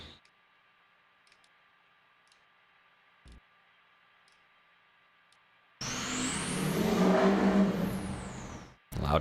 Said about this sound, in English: Loud ass truck outside.